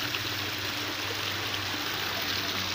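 Clear hillside stream at Matheran, Maharashtra, running down toward a creek below, a constant soft rush and trickle of flowing water, steady and fairly quiet throughout with no talking.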